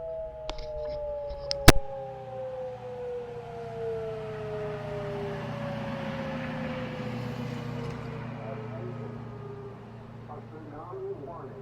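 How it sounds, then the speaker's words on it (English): Long wailing tsunami warning sirens from loudspeakers in Alaska after a magnitude 7.8 earthquake drift slowly downward in pitch from a distance, under steady background rumble, with a couple of sharp clicks near the start. "There's the sirens there."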